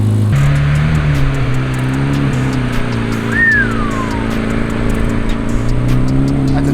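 Chevrolet Corvette C8 Z06 engine and exhaust idling at close range in its quieter exhaust mode, a steady deep rumble that stays loud and even throughout, with a brief faint whine partway through.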